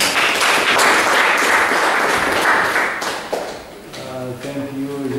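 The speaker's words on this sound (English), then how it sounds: "I think we first give him a big clap." Audience applause after a particle physics and astronomy seminar, a dense burst of clapping that fades over a few seconds as a voice begins speaking over the tail.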